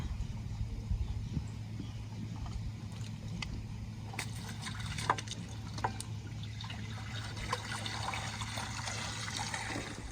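Water trickles and splashes while a goats' water container is cleaned and refilled outdoors. The flow is soft and continuous, with scattered drips and sloshes over a low background hum.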